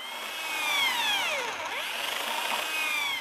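Power drill boring into an interior door to make a hole for the latch, a close, loud whine that rises and falls in pitch as the bit bites, running continuously.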